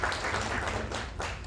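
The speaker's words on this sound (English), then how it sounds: "please give a big round of applause to" Dense audience applause at a youth conference event, a steady wash of many hands clapping at once without pause through the short stretch.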